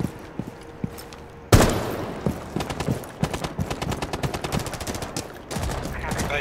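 Rainbow Six Siege gunfire: a sudden loud burst opens into a run of rapid, evenly spaced shots from an automatic weapon, close and sharp, followed by a brief pause and more firing.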